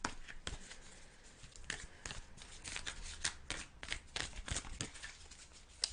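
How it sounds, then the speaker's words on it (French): Tarot cards being shuffled and drawn: quick, soft riffling and flicking with light slaps of card on card, close and quiet, in an uneven rhythm over several seconds. "Je vais prendre une dernière carte pour ce 8 de denier à l'envers"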